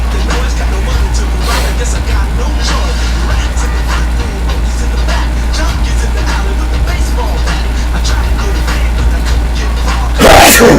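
A single sharp sneeze bursts out near the end, following steady low vehicle rumble that resembles a bus or train interior.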